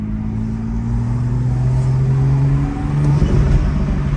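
Rebuilt, modified BMW M2 accelerating hard in Sport Plus mode, a loud engine drone climbing in pitch through the gears with a brief shift break, heard from inside the car.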